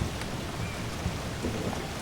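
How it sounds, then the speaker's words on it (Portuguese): Steady heavy rain pours down outdoors with low rumbling thunder beneath it, a dense continuous wash of sound and no voices. "Até que finalmente chega a chuva até nós"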